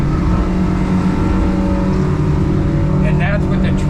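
A Hewescraft 270 Alaskan boat running on one of its twin F200 outboards, a loud, steady close engine drone with water rush, and people talking over it.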